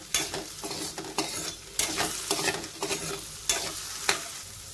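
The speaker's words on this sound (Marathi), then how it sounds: "मी आता काकडी घालतेय। हे पण आपण छान परतून घेऊया।" Potatoes and cucumber sauté in a pan for a fasting-day sago khichdi, with repeated scraping stirs at a steady pace over a continuous sizzle, close and fairly loud.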